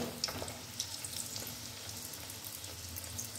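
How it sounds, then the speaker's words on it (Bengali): Moong dal kachori frying in hot oil, a steady close sizzle with soft bubbling crackle and occasional small pops, no voices. "একইভাবে আবার একটি কচুরি দিয়ে দিলাম তেলে"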